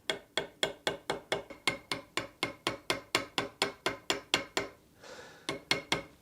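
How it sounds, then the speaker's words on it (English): A tiny pin hammer taps metal work resting on a boxwood anvil with a quick, even run of light, sharp strikes, about three per second and close up. The blows pause briefly near the end, then resume. "So I've got a boxwood anvil here, tiny little pin hammer"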